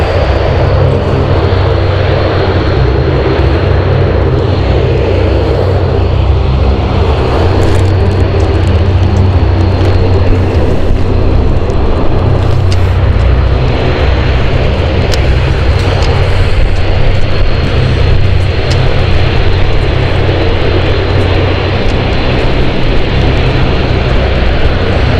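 A parked airliner on stand 4 at London City Airport, its engines giving a steady, loud roar with a constant whine that holds for the whole stretch and never lets up.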